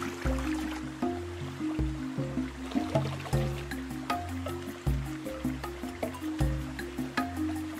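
Water gurgles and glugs in a regular rhythm as a bottle is refilled from a forest river, with repeated bubbling pulses close by.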